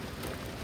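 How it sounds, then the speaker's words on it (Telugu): Steady rain pours down outdoors, a continuous soft hiss of drops spread evenly across the short stretch with no breaks and no voices. "మళ్ళా వాన కొడుతుంది"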